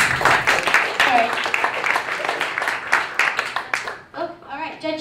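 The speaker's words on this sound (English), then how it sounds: "Big round of applause." Audience claps at a startup demo day pitch, the applause rising under a speaking voice and then thinning out, with talk continuing near the end.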